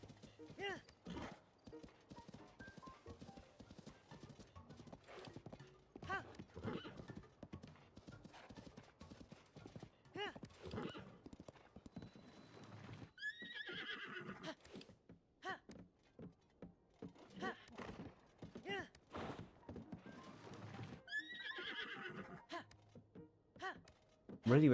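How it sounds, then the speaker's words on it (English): Steady clip-clop of a horse's hooves galloping on and on in a video game, Tears of the Kingdom, with a voice talking over them and occasional whinnies. "Really wish this horse would stop."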